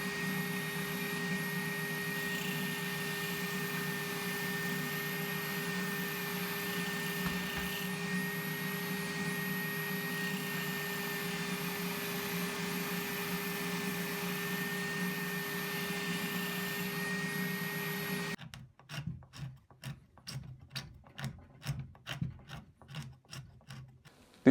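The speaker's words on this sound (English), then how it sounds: "I'll clean that off in the spindle sander" A spindle sander runs with a steady mechanical hum and rasping contact as it cleans glossy PVA glue off a wooden corner block for an upholstered chair, then cuts out to quick, faint rhythmic scraping.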